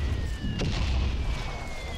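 A cannon fires in the World War I game Valiant Hearts, a single deep boom that rolls into low rumbling.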